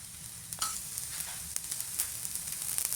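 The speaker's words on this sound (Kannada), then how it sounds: "ಈಗ ದೋಸೆ ಹಾಕೋಬೇಕ್ರಿ. ಈಗ ಎಣ್ಣೆ ಹಾಕೋಬೇಕ್ರಿ." Rava dosa frying with oil on a hot pan, a soft continuous sizzle with several sharp crackles and light utensil taps scattered across the few seconds.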